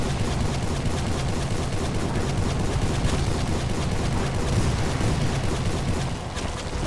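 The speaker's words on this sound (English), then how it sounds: "we're on the wrong end of a Gatling gun in this mission" A Gatling gun hammers out continuous rapid fire in Civil War: Secret Missions at Lynchburg, a dense unbroken barrage that stays loud for the whole stretch and dips only slightly at the very end.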